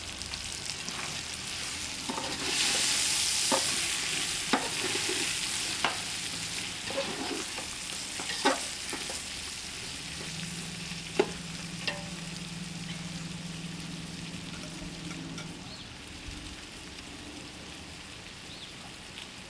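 Chicken pieces sizzle and fry in a pot over an outdoor fire as rough salt goes in, with a steady hiss broken by scraping stir strokes and clinks from a utensil, and a brief low hum partway through.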